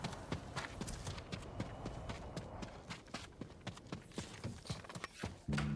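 Horse hooves clip-clop in steady, repeated beats during a ride in the video game Ghost of Tsushima, fairly close and distinct over a busy game background.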